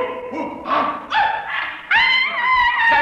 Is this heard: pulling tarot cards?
no